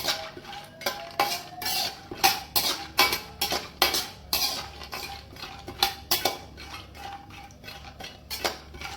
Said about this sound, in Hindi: अब हम इसमें ये 1 कटोरी बादाम डालेंगे और इनको अच्छी तरह से भून लेंगे